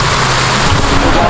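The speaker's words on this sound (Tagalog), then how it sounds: "Ayan po, lakas ng ulan." Heavy rain pouring down on a Saturday night, a dense, loud, continuous hiss with faint low rumble underneath.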